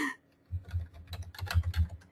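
Someone types an email address on a computer keyboard, a short run of close, soft, irregular key taps after a brief quiet start, with no talking.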